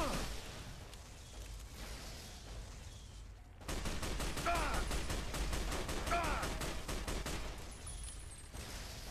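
Rapid automatic gunfire from eyebots in the Fallout New Vegas video game, a dense rattling stream of shots mixed with battle noise that starts abruptly partway through and continues steadily to the end.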